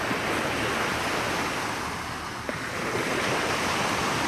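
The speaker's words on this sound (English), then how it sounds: "you hear the waves hitting against the area" Ocean waves wash continuously onto a Lake Michigan beach shore in Chicago, a broad steady hiss of surf with a slight swell near the middle, heard without any talking.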